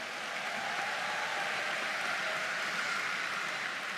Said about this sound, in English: Give them both a warm round of applause.